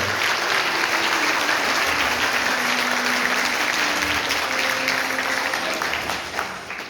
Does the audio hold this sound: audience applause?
yes